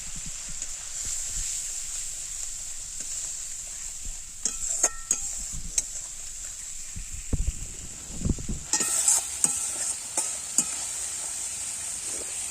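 Eggplant masala for doi begun sautéing in a pan, with a steady bright sizzle throughout and scattered scraping stir strokes, busier toward the end.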